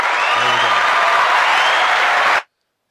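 A canned applause sound effect, a dense, steady wash of clapping and faint crowd noise that holds evenly and loud, then cuts off abruptly into silence.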